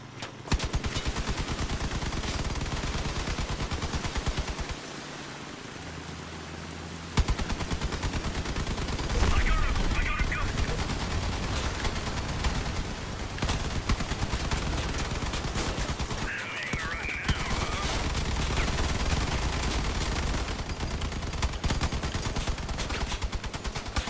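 Video game shootout gunfire: dense, loud, continuous bursts of rapid automatic shots and fusillades that barely pause across the whole stretch, with no talk.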